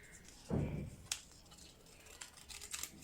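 Scissors cut diagonally through folded paper for an origami fish, rabbit and Pikachu. A few short, crisp snips come close up after a dull handling thump, quiet against a still room.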